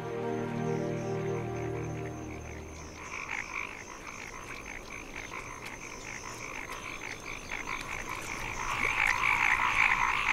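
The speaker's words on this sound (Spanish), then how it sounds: "El canto nupcial de las ranas de los arrozales, entonado por los machos" Male rice paddy frogs call at dusk with a dense, steady chorus of mating croaks that swells toward the end, heard alone without voices over a wetland backdrop.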